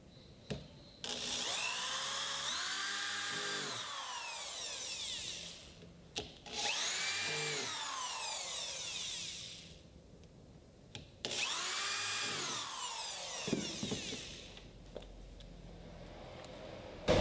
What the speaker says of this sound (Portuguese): Aí faço um furo com a broca com o diâmetro do corpo do parafuso.